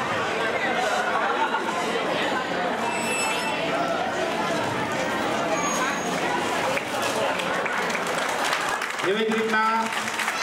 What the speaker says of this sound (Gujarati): જોરદાર તાળીઓ બનાવજો.